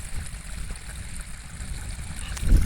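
Irrigation water running in a chickpea field: a steady, rough, low wash of flowing water that carries on without a break, fairly close and moderately loud, with no talk over it.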